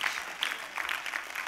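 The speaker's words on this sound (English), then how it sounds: "Clap your hands for the Lord." A church congregation claps along during a service. The sound is steady, brisk hand clapping from a crowd, moderately loud and continuous for the whole short stretch, with no voices.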